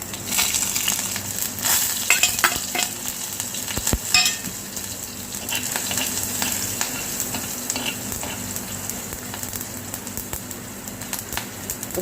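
Mustard seeds, asafoetida, fennel and green chili frying in hot oil for a sabzi made without onion, garlic or tomato, a steady close sizzle with scattered crackles and pops and the occasional scrape of stirring throughout.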